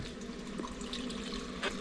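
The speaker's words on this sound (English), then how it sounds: "So pour a little bit of water in here." Water is poured into a 1978 Chevy C30 truck that has sat parked for years, a faint, low trickle and splash in a shop with faint background hum.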